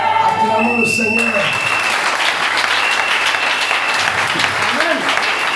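A church congregation applauds in sustained, dense clapping that fills the room, while a voice speaks over the start and again briefly near the end.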